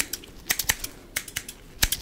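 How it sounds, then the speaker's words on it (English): Scissors snip close to the microphone in ASMR-style trimming: crisp, sharp clicks come singly and in quick pairs at an irregular pace, with no voice over them. "Just ignore the sound of the scissors"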